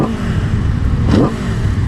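An Aprilia sport motorcycle engine revs up briefly from a rough idle, rising in pitch then falling back, close and fairly loud.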